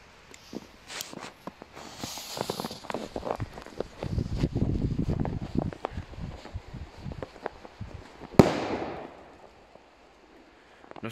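A classic dumbum firecracker goes off in snow with one sharp, loud bang near the end, after a stretch of crunching footsteps and rustling close by.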